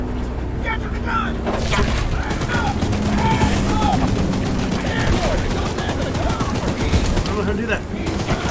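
Rapid bursts of mounted-gun fire in the video game Choo-Choo Charles, loud and close, rattling almost continuously over a rumbling engine-like background while a player shouts excitedly over it.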